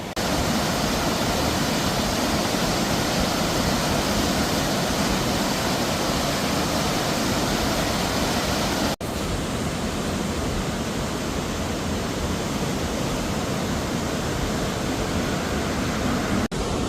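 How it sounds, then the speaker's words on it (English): A powerful waterfall in Scotland roars without a break, a loud, dense rush of water that stays constant from start to finish. "The volume of water coming over there is absolutely phenomenal."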